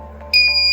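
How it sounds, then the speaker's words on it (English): An Arduino buzzer wired to the board switches on about a third of the way in, giving a loud, steady, high electronic tone over a low constant hum. "As you can see, the buzzer is buzzing."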